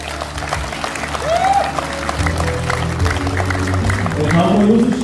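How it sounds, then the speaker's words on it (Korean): Audience applause at a political talk concert in Yeosu, steady clapping from a crowd heard under background music and a voice carrying over it. "여러분들 큰 박수 부탁드리겠습니다."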